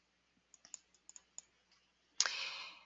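A computer mouse gives a run of close, faint, quick clicks, then a louder burst of broadband noise at the end, with no talking.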